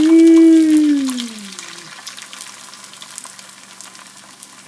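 Beaten eggs for a tamales omelet hit a hot pan and set off a steady, close sizzling hiss after a short tone at the start, with no one talking.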